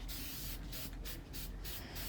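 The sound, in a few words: spray painting a plastic flower pot with white enamel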